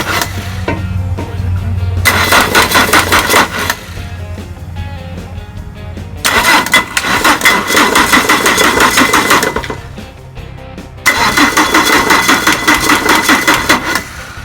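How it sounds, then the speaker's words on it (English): A small Jeep starter motor cranks over a Mercedes diesel engine swapped into a Jeep Wrangler, giving three loud, sustained bursts of churning mechanical whirring separated by short pauses, close and alone. "Seeing that little Jeep starter crank over that diesel was certainly satisfying"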